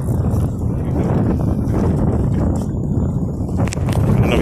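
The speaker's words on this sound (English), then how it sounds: "I don't know if you guys can hear me, but it's windy out here." Strong wind buffets the microphone outdoors on a bay fishing trip, a loud continuous low roar that never lets up and drowns out other detail for the whole stretch.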